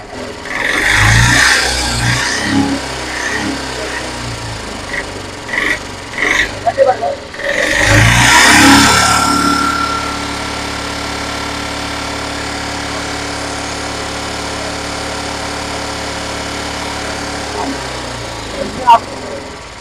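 A bored-out engine on a Piaggio Ape auto-rickshaw revs in a few loud bursts, then settles into a steady idle with a droning hum, while a person talks over it at the start.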